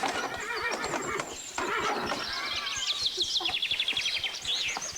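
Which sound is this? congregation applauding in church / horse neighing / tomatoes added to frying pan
horse neighing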